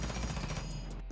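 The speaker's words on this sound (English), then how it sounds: "Here's the extended barrel, 8 meters with control." Rapid automatic gunfire from a weapon with an extended barrel in Rainbow Six Siege: a dense, quick burst of shots lasting about a second, fairly quiet, with no talk.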